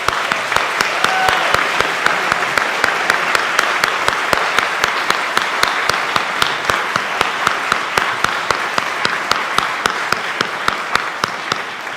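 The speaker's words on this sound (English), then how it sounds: "Let's clap." Congregation in a Unitarian Universalist service clapping for rising sixth graders, a loud, even stream of applause with a strong regular beat from one nearby clapper running through it.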